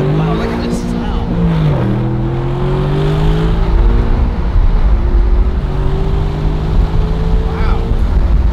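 High-performance sports car engine roaring as it accelerates hard, rising revs and gear shifts close up from inside the cabin, loud and continuous, with people talking over it.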